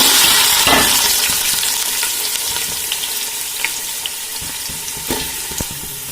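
Chicken fries in hot coconut oil for a biryani, a loud, continuous close-up hiss and crackle with occasional stirring clicks and no voices.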